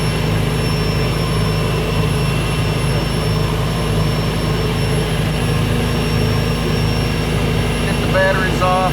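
Jet turbine engine of a 1959 GM Firebird III running, a loud continuous roar with a steady high whine held close and unbroken for the whole span.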